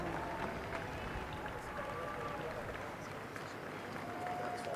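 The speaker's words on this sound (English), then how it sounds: "you hear them chanting, "God save the King."" A large outdoor crowd at a royal visit in Canada chanting "God save the King", a steady dense roar of many voices with scattered clapping, fairly distant and continuous throughout.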